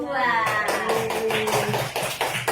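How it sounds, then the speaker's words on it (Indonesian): A classroom of students claps for group 2 in a short burst of sharp, uneven handclaps that follows a voice, with talk over part of it. "Tepuk tangan dulu untuk kelompok 2."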